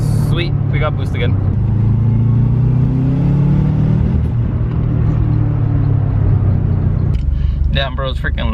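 A turbocharged car engine revs loud and close under boost, its pitch climbing steadily for several seconds before easing off, with brief bursts of talk near the start and end.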